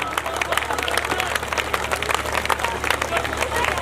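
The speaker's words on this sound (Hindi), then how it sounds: "तो बामा परिवार के लिए तालियां नहीं रुकनी चाहिए" A crowd of listeners applauding at a Bhagwat Katha and wedding gathering, with steady dense clapping throughout and some voices mixed in.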